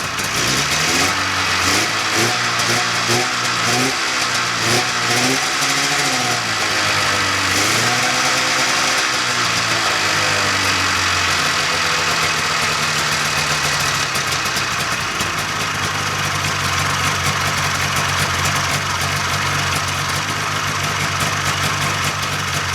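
A 1995 Polaris Indy 440 snowmobile's two-stroke engine runs after one rope pull with no gas poured in the cylinders. It is loud and close, wavering and revving at first, then settling into a steady buzzing idle.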